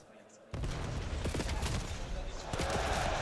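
Gunfire in a Call of Duty esports match, rapid bursts of shots and a busy crackle of game combat, loud and close, with commentators talking over it.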